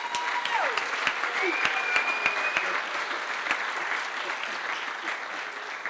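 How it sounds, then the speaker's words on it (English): Gala audience at a chamber of commerce black-tie-and-blue-jeans dinner breaks into sustained applause for the chamber staff, a dense wash of many hands with a few louder individual claps and faint cheers. "Libby, Paige, Shannon, can we give them a quick round of applause?"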